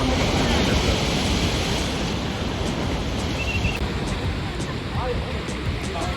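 Sea waves surge and crash continuously against rocks close by at Marine Drive, Mumbai, in the evening, a dense roar of churning water with wind rushing across the microphone.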